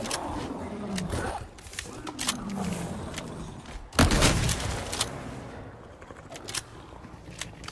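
Shotgun fire in Resident Evil 4 as a few heavy, booming shots, the loudest around the middle, mixed with monster growls and game effects.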